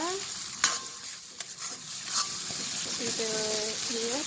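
Spices sizzle in a pan for Manado-style ikan woku, a fish dish, with a steady frying hiss. A few sharp spatula clicks break in, and a voice speaks over the last second or so.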